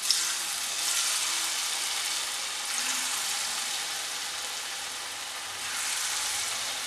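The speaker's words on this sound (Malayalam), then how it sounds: "ആ ചൂടായ എണ്ണയിലേക്ക് നമുക്കിത് നുള്ളി ഇട്ട് കൊടുത്ത് ഫ്രൈ ചെയ്തെടുക്കാം." Pinched balls of rice flour and banana dough fry in hot oil, a loud steady hissing sizzle that swells slightly as more pieces go in, with no talking.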